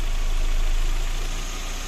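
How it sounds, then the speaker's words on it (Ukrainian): A 2008 Skoda Octavia 1.6 MPI petrol engine idles after repair, a steady, even low rumble heard close up without speech. "Ось так от працює у нас двигун."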